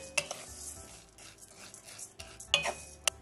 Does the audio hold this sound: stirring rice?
yes